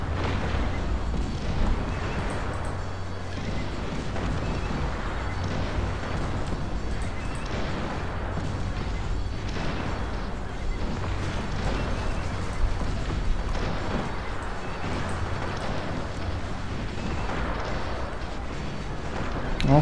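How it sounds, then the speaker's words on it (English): Repeated cannon booms in the Cossacks strategy game, rolling blasts recurring every few seconds through a dense battle din, fairly distant and continuous across the whole stretch with no talk. "Let's use the cannons"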